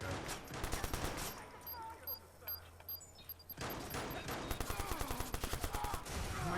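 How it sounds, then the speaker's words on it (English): Rapid bursts of gunfire from the Watch Dogs video game crackle in quick volleys, with a brief lull in the middle before dense repeated shots resume, while players talk over the action. "Keep shooting him."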